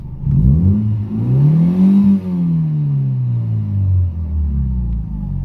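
Toyota 4AF engine revving, a loud close rumble that climbs, holds and slowly falls in pitch over several seconds with no talk over it.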